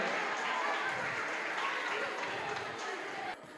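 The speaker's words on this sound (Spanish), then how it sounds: "un aplauso para los niños de sexto B" Steady applause from a crowd at a school dance festival for sixth-grade children, continuous clapping at moderate distance, dropping off slightly at the end.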